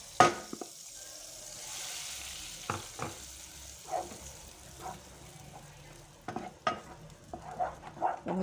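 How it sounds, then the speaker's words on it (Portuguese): Margarine melts in a preheated pan over low heat, a soft gentle sizzle broken by scattered clinks and scrapes of a spoon against the pan. "Vamos derreter essa margarina."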